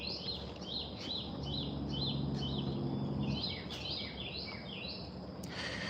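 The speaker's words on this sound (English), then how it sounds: "I hear birds chirping." Outdoors, several birds chirp in quick repeated high bursts over a low ambient rumble, fairly faint and a little distant, with no talking.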